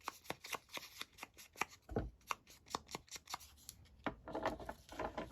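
Scissors snipping paper to cut out a book page pocket, a rapid run of crisp close cuts with brief rustles and a small thud partway through, no talking.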